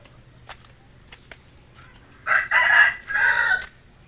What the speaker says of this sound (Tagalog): dito naman tayo sa manok-manok. Yan, manok ni Bangin. Yan, manok